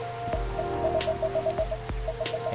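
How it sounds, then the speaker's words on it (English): Steady rain falls in a game scene, a soft continuous patter with occasional drips over a quiet tonal music bed. "her tears hit the earth in a thick cloud of rain"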